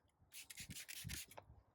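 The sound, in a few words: wet sanding a headlight lens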